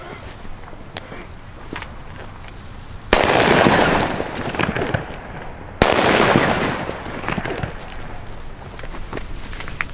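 Firecrackers and fireworks go off on a street at New Year's Eve, with two sudden loud blasts followed by crackling, fizzing bursts over a background of scattered pops and distant bangs.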